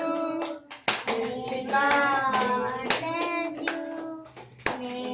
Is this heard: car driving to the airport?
no